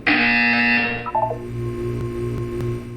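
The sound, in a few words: buzzer in the video game Portal 2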